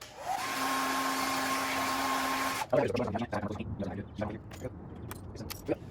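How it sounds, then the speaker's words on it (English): A steady broadband whir of a hair dryer heating car badge adhesive runs for a few seconds, then cuts off, followed by scattered clicks and handling noises. "get your blow dryer, your heat gun, and go ahead and redo it again"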